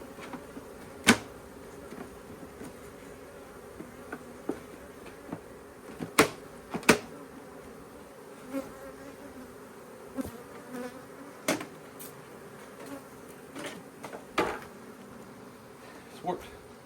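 A honeybee swarm inside a swarm trap gives off a steady low buzz at moderate distance, broken by scattered knocks and taps.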